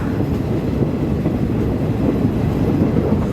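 Rapid train 135 rumbles steadily along the rails near the Pha Sadet and Hin Lap tunnels in Muak Lek, a loud continuous low roar with faint rhythmic wheel clatter, heard from inside the carriage.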